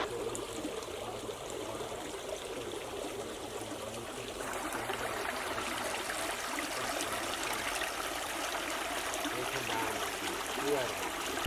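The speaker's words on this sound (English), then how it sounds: "We found this path come down to the creek, this little trickling waterfall." A small trickling waterfall at a desert canyon creek gives a steady, soft splashing wash of running water, close by and continuous throughout, with no talking heard.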